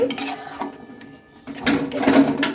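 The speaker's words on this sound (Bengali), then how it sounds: "ঘি দিয়ে আবারও আমি একটু ভালোভাবে নেড়ে চেড়ে নেবো" Semolina and ghee stirred in a pan with a spoon, giving a few scraping, clinking strokes against the metal, quiet at first and then a busier burst of scraping near the end.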